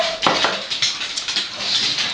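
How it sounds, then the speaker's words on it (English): Dogs whimper and whine in a home kitchen during baking, a few thin, high-pitched cries close by with faint clinks of dishes or utensils around them and no talk. "Those are my dogs."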